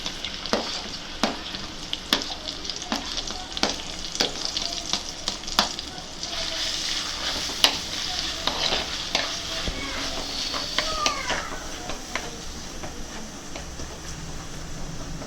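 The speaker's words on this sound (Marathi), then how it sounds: "आता आपण फोडणी घालणार आहोत" A crushed onion, green chili and ginger paste hits hot oil for a mackerel fish curry and sizzles loudly and steadily, with sharp clicks of a spoon stirring and scraping the pan.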